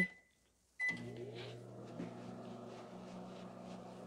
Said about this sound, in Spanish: Aquí va nuestro chocolate al microondas.